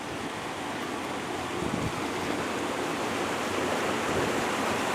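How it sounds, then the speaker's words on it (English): A brook gushes forcefully between wet rocks in autumn woodland, a steady loud broadband rush of running water close by, continuous throughout with no talking. "you can see the water running out. It's running out with some force"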